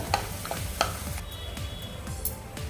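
Roasted peanuts scooped out of hot ghee in a pan, with a few sharp scraping clicks of a spoon against the metal over a soft, steady sizzle, close and fairly quiet, no voices.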